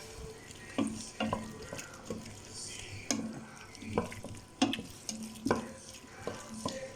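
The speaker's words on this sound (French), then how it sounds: "Et on mélange." A pork stir-fry stirred in a pan, with quiet sizzling under a series of distinct utensil scrapes and clacks against the pan at an uneven pace, close and fairly soft.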